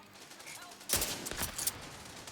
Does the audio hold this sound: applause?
no